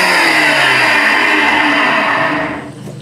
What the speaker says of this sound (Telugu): వేసేసి మిక్సీ పట్టేశాక మీకు చూపిస్తాను